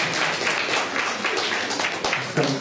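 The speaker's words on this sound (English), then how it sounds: "We have a round of applause as well" Audience applause fills a literature festival panel, a steady dense wash of many hands clapping throughout, fairly loud and unbroken.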